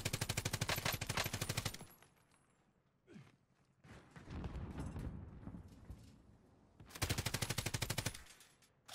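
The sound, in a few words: gunfire from the video game Warzone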